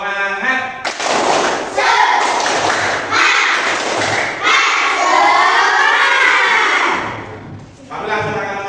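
Classroom children in an Indonesian school lesson perform the tepuk semangat clapping chant, a loud, busy burst of shouted voices and rhythmic claps filling the room, dipping briefly near the end before rising again.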